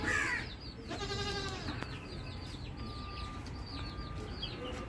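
A goat on a small backyard home farm lets out a clear, wavering bleat, with faint chicken clucks and other farm sounds in the background.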